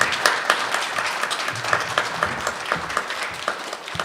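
An audience applauds after a story reading at a literary event, a dense, even patter of many hands clapping continuously at moderate loudness.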